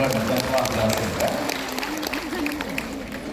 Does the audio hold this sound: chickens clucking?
no